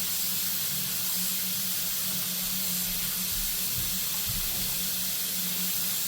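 Hot water running from a lab sink tap, a steady loud rushing hiss of the stream with a low hum beneath, continuous and close throughout.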